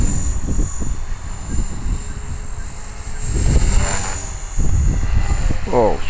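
A small 450-size RC helicopter flying in gusty wind, its rotor drone wavering and surging as gusts buffet it, with wind rumble throughout and a voice talking over it.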